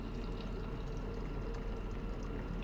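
Warm water pours steadily into an ultrasonic cleaning bath holding an alkaline solution, used to prepare guitar parts for silver plating, making a continuous close, rushing gush with no pauses.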